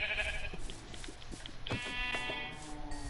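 Minecraft sheep bleat in the video game, with one wavering call near the start and a louder, clearer bleat partway through over soft in-game ambience.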